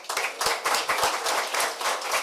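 Audience applause at a side event on multilateral agreements and sustainable development, honoring two presenters: steady, dense hand clapping from a crowd filling the room throughout, with no speech over it.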